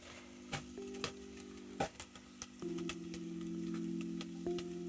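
Onions frying gently in a pan until soft, a steady sizzle broken by sharp clicks and knocks of stirring, with a faint hum underneath throughout.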